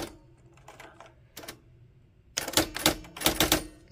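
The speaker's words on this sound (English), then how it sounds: "when your typewriter first boots up, it's in the normal mode, so you can type stuff just right as you go" Keys clack on a Nakajima WPT-160 electronic typewriter, scattered single strikes at first, then a fast, loud run of rapid clattering keystrokes up close.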